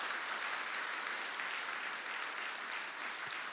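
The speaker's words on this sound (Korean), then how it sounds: "다시 한번 뜨거운 박수로 격려하십시오" A church congregation applauds during a Sunday service after a gospel quartet performs, steady distant clapping throughout with no talk, fairly faint and even.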